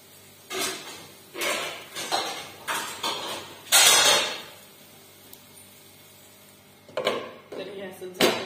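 Metal pot and lid clatter while sabudana khichdi cooks in a home kitchen: several short, bright clanks and scrapes spaced over a few seconds, then a quiet pause before more rattling near the end.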